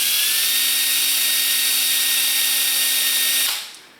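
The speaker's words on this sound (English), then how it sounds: "So what we are going to want to do is set our bit in that forward pocket and just start a bit of a pilot." A power drill bores a pilot hole in the forward pocket of a Disney Nautilus model, whining at a steady pitch for about three and a half seconds before spinning down. The drill is close and loud, with no talking.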